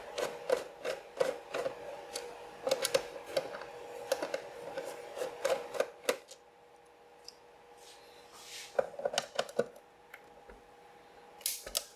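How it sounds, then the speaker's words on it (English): A screwdriver turns stubborn screws out of the bottom of a Toshiba T1000 laptop, making quick close ratcheting clicks in bursts with a faint tone in the background and short pauses between screws. "To open the unit, we first need to remove these 6 screws on the bottom."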